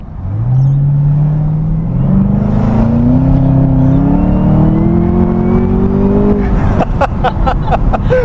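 A Camaro ZL1 accelerates hard with its rear tires spinning, its engine note climbing loudly and continuously for several seconds before a burst of rapid crackling pops near the end. The sound is close, and nobody talks over it.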